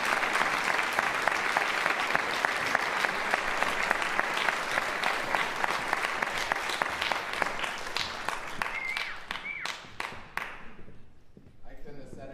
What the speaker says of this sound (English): And let's welcome him with a big round of applause.